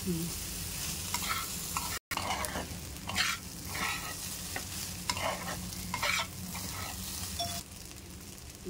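White rice stir-fried in a pan with egg, coriander, black pepper, chilli powder and garam masala, giving a steady sizzle broken by repeated spatula scrapes, with one brief dropout.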